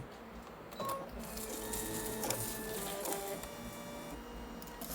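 An NV4500D embroidery sewing machine, Disney limited edition, lowers its presser foot, clamps the thread and trims it, giving a steady mechanical whir with a few sharp clicks and tonal beeps over a continuous motor hum.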